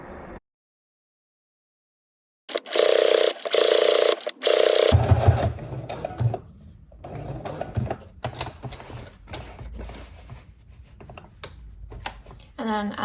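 A sewing machine runs in a few short bursts while topstitching a sewn top, its fast mechanical chatter close and fairly loud, followed by quieter handling sounds and light clicks.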